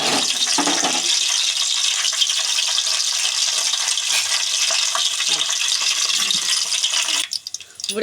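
Tempering spices sizzle loudly in hot oil in a pan for mango coconut chutney, a dense continuous crackling hiss close up that briefly breaks off near the end.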